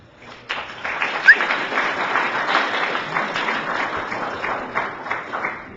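An audience at a city council meeting applauds, with a crowd of many hands clapping that starts abruptly and holds at a steady, fairly loud level before tapering slightly toward the end.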